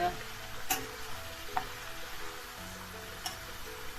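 Spiced potato chips fry in hot oil with a faint, steady sizzle, broken by a few sharp clicks and taps of a utensil against the pan.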